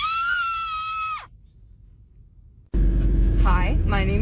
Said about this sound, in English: this is my scream 2 months on T